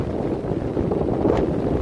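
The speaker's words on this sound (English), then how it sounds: "It's blowing like it's got to be blowing 40 plus." Strong wind of 40 to 50 mph roars across a snowy Appalachian mountain among ankle-deep drifts, buffeting the microphone with a loud, low rumble and rising gusts throughout.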